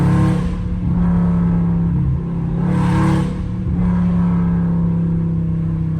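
Car engine revving hard during pulls on a wet road in the rain with no traction, a loud sustained roar that swells twice and holds between the peaks, captured close with no talking.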